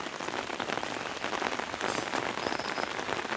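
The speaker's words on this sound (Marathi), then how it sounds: "आम्ही पावसावर भिजतोय मोबाईल पण भिजतोय" Rain falls steadily outdoors on open grazing land, a dense, close patter of drops hitting surfaces with no pauses and no voices.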